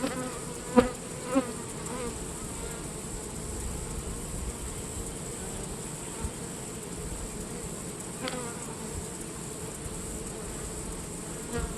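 Steady dense buzzing of many honeybees close up in an open hive during inspection, a continuous hum with a few brief knocks and clicks.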